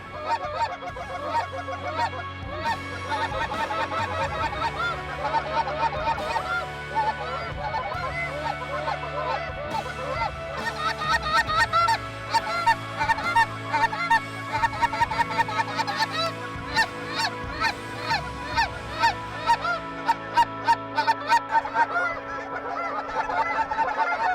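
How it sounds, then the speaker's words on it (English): A flock of Canada geese honking repeatedly over snow on Colorado's Front Range, many overlapping calls, growing denser and more rhythmic toward the end, fairly close and loud. "We've got quite a few geese moving"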